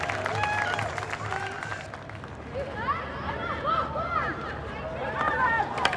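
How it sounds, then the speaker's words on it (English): A hockey stadium crowd cheers and roars as the New Zealand Black Sticks women's team walks out for a Pro League match against Belgium, a broad, distant swell of voices and whistles rising in waves while a commentator talks over it. "the crowd obviously a little bit more vocal"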